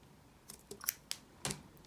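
Several sharp, close scissor snips cutting thread on a beaded pendant, spaced irregularly, with quiet pauses in between.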